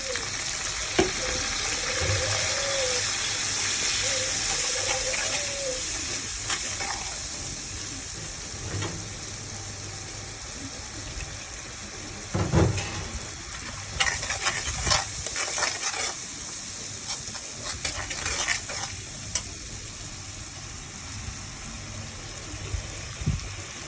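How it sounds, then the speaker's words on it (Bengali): Spice paste of ground cumin, turmeric, salt, chili powder and a little mango pickle frying in a pan, a steady bright sizzle with scraping stir strokes and occasional louder clatters of the spoon against the pan. "মশলাটা ভাজা ভাজা হয়ে গেছে।"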